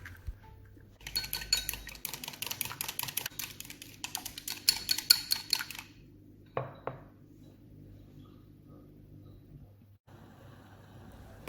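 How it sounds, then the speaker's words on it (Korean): A single egg is beaten in a bowl for Korean egg soup, quick clinking utensil strokes against the dish for several seconds, then a few scattered taps before a quiet pause. "육수가 만들어지는 동안 달걀 1개를 그릇에 넣고 잘 풀어줍니다."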